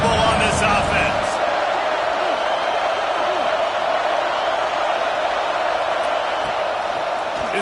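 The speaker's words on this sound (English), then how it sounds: "Fourth down, and this crowd is making it miserable on this offense." A football stadium crowd roaring during a fourth-down play in an Ole Miss versus Ohio State game, a loud, sustained wash of noise with a commentator talking over it.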